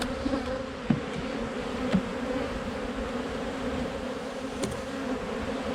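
A mass of honey bees boils out of a hive entrance, producing a loud continuous layered buzz close by, punctuated by a few faint knocks and clicks, with no one speaking.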